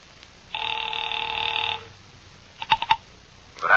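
A rotary telephone in an office, its dial doodled before a call, rings with a steady bell for over a second, then a few brief clicks and knocks follow, all without speech.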